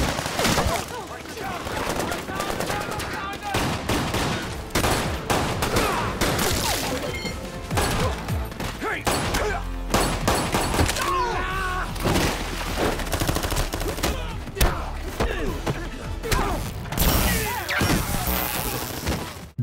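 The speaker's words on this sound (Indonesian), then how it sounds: "Baku tembak pun berlangsung dengan sangat menegangkan di mana mereka harus melawan puluhan pasukan khusus." A shootout in an action film erupts in rapid, dense gunfire, with machine-gun bursts, sharp single shots and crashing impacts stacked for about twenty seconds, loud and near, with a voice partly over it.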